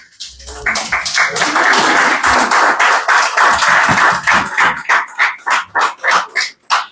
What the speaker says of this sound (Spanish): Un aplauso al Señor, que se lo merece.